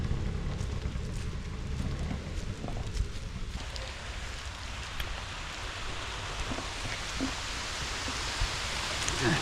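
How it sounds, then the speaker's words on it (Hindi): Steady rain falls outdoors in a continuous, even hiss of drops on surfaces, moderately loud and unbroken for nearly ten seconds, with scattered sharper patters and no voices. "आ जाओ, बारिश बारिश बारिश।"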